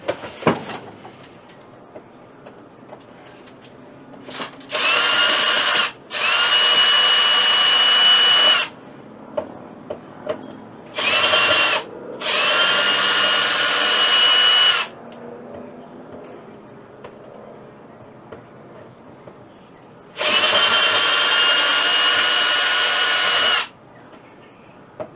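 A power drill backs screws out of the wooden sides of a dog house being restored, in several bursts of steady whirring separated by quiet pauses, close and loud.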